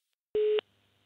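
A single telephone voicemail beep signals the start of recording after a German mailbox greeting: one steady, clean tone lasting about a quarter second, followed by faint line hiss.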